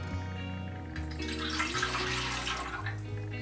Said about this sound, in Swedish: Så då börjar jag med hälla i vattnet